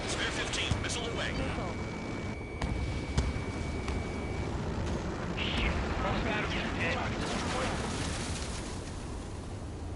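Missile launch and explosions in the jet combat game Ace Combat 7, heard as a continuous roaring, rumbling din of engine noise and blasts with sharp booms mixed in and a thin steady tone running partway through.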